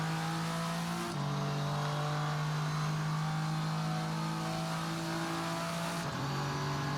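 The VRC Vendetta V60 race car in the Assetto Corsa racing game, its engine a loud steady high drone that dips briefly on a gear change near the start and again near the end, with a blipped downshift.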